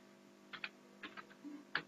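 Quiet typing on a computer keyboard: a few scattered key clicks in short bursts, close and faint against a soft steady hum.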